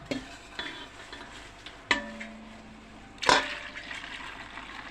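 Homemade liquid soap made from laundry soap is stirred in a container, giving quiet wet sloshing broken by a few sharp knocks and one louder splashy scrape, with no talking.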